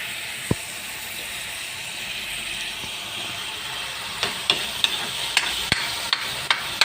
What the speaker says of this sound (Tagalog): Gisa-gisahin lang natin yung bawang, saka sibuyas, kamatis.